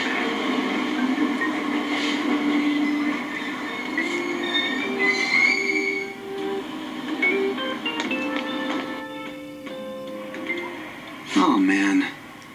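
A subway train in the video game Persona 5 Royal rumbles steadily with brakes and wheels squealing, tonal hums shifting, ending in a brief louder screech; no talking.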